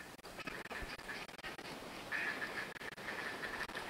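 Wild ducks quacking during a duck hunt, a steady run of nasal calls over about four seconds from several birds at mid distance, with background noise and no talk.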